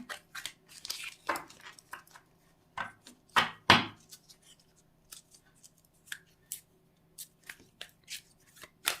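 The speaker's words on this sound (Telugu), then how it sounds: "షఫల్ చేస్తూనే ఉన్నా కూడా ఇవి మిక్స్ అయిపోతూ ఉంటాయి కదా." Tarot and angel cards being shuffled by hand, with irregular crisp riffles and soft slaps, some bursts sharper than others, separated by short quiet gaps, close and fairly quiet.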